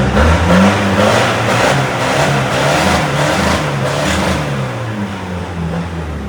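A remapped Isuzu D-Max 2.5 pickup engine is held at around 4,500 rpm, giving a loud, steady, close-up revving drone that carries on without any talk.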